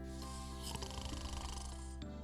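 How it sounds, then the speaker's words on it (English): A person snores in deep sleep, one drawn-out rasping breath followed by a short pause and a fresh intake, close and low. "Apparently, I snore."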